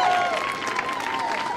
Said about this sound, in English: Clap, y'all. Make some noise.